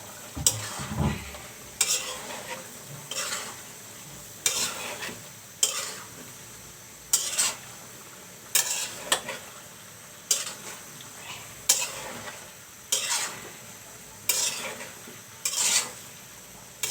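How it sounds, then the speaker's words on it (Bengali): Cauliflower curry with dried fish sizzles in a pan while a spoon stirs it, giving a steady rhythm of scraping strokes about every second and a half over a constant fry. "এখন আমি ফুলকপি তরকারিগুলো দিয়ে দেব"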